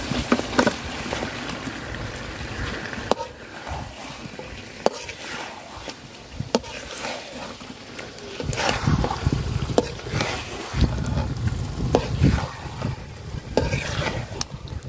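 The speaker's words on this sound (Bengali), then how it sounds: "মাংসটা আমি সুন্দর করে কষায় নিছি।" Spiced duck meat stir-fried in a pan, a steady sizzle broken by repeated scraping stirs that grow busier and louder toward the end, with no talking.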